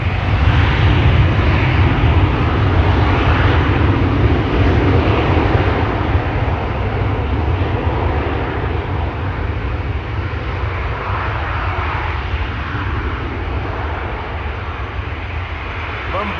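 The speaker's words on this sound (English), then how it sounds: "And already a 737 from Transavia." A Transavia Boeing 737 airliner at Schiphol Airport gives off a loud, steady jet engine roar that holds for the whole stretch, easing slightly toward the end, with a voice talking over it.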